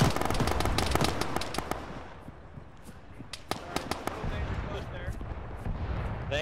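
Gunfire in the military game Arma, with a quick series of sharp cracks early on followed by scattered single shots and pops at varying distances, under ongoing radio-style talk among players.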